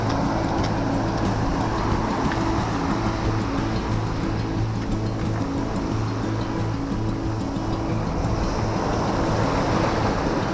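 Sea waves breaking and surging along the Tunstall shoreline on the Holderness coast, a steady loud wash of surf with wind noise on the microphone and a constant low rumble throughout, no voices.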